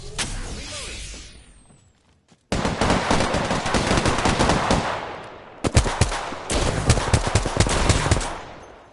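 Sustained automatic gunfire from the battle royale shooter Apex Legends, loud and dense, with a brief quiet gap before heavy bursts resume and continue with sharp repeated shots until the end.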